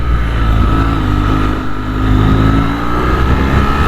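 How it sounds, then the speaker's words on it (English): Motorcycle engine accelerating up through the gears on the road, loud and close, with rising revs, a brief dip around a shift, then climbing again, steady wind noise underneath. "Here I'm accelerating,"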